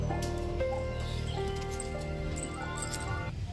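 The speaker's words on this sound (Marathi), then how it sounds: "कुठला तरी पक्षी ओरडतोय, खूप छान ओरडतोय" A bird calls near a Nagdevata temple beside the Pavana river, giving thin, sustained whistled notes that shift in pitch over a steady hiss of outdoor background.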